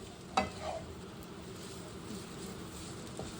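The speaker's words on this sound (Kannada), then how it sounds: "ಇದು ಹಾಕಿ ನೀಟಾಗಿ ಮಿಕ್ಸ್ ಮಾಡ್ಕೊಳ್ಳಿ" Vegetable noodles being stirred with pepper powder and spices in a pan: a soft, faint sizzle runs throughout, with a sharp utensil clack near the start and light scraping after, no talk.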